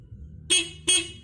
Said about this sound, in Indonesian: sekarang kita coba, kita klakson ya